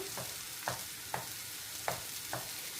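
Egg and string hoppers stir-fry in a pan for kothu, with a faint continuous sizzle and about five evenly spaced spatula scrapes against the pan, close and quiet.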